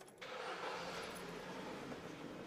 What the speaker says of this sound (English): if we just start the vehicle up